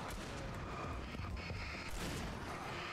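Gunfire in the video game Alan Wake Remastered, a dense volley of booming shots that runs continuously under game noise for the length of the clip, loud and close.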